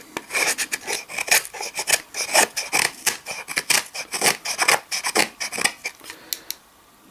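A folding Bowie knife carves and feathers firewood in quick, rhythmic rasping strokes, loud and close, repeating steadily for several seconds before tapering off.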